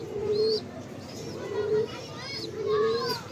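Pure Basra breeder pigeons coo in repeated low, throaty phrases, with a few higher chirps mixed in. The calls sound close and moderately loud over a soft background hiss, with no talking.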